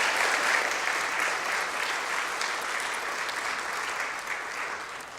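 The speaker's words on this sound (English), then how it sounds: "Let's give her a round of applause too." An audience at a panel discussion claps in sustained, even applause that fades slightly toward the end, heard alone without talk.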